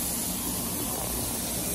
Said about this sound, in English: Oil on the steak, steak in the pan.